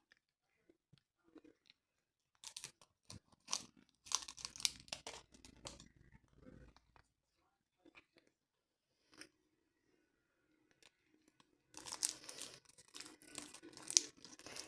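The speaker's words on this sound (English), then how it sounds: "You're eating the paper." A cat chews and tears at paper in quiet indoor surroundings, giving intermittent bursts of crinkling, ripping and chewing noises separated by near-silence.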